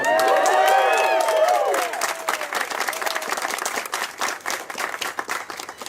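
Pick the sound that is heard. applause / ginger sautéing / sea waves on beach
applause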